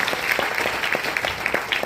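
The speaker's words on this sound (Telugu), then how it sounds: "ఒకసారి గట్టిగా క్లాప్ చేయాలి" Audience applause for a company owner, a dense steady patter of many hands clapping close and fairly loud throughout, with no talk over it.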